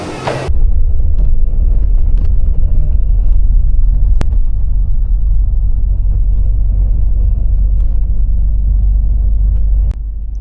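Steady loud rumble of a bus engine and tyres heard from inside the cabin on a road trip toward Hoi An, Vietnam, continuous throughout with a couple of brief clicks and knocks.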